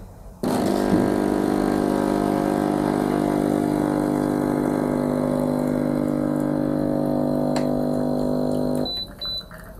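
FCM 695 espresso machine running hot water into a cup to warm it, a loud steady pump drone with a strong hum that starts abruptly, holds for about eight seconds and then cuts off.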